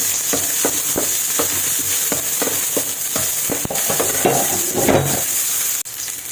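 Garlic and onion fry in oil in a pan as a Filipino string bean dish is cooked: a loud, constant sizzle with a utensil scraping and clinking against the pan in an uneven rhythm, ending in a brief knock.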